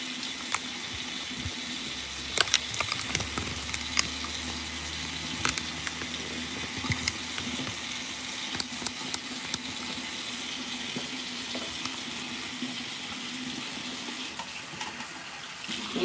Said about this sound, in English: You must wash your hands before you stick your hands in your eyeballs.